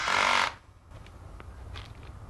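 Power driver sinking a self-tapping screw into an aluminium bracket during aquarium assembly, one short loud whir lasting about half a second, then quiet room tone.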